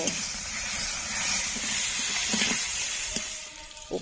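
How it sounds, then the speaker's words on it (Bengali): Previously fried sea crabs are stirred back into hot spiced oil for a crab curry, producing a steady close sizzle and hiss with a few soft knocks of the spoon against the pan. "কাঁকড়াগুলো দিয়ে আবারও কিছুক্ষণ নেড়ে চেড়ে ভালো করে কষিয়ে নেব"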